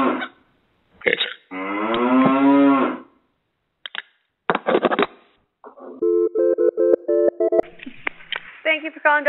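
An angry cow lets out one long, loud moo, set among clipped bursts of talk and telephone-like tones on a phone line.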